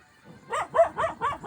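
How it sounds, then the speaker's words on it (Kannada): A dog barks four times in a quick, steady run, fairly close and loud, out in a village at night with no talk over it. "ಅಲ್ಲಿ ಒಂದು ನಾಯಿ ಅದಲ್ಲ ಅದಕ್ಕೆ ಒದರಕತ್ತದ"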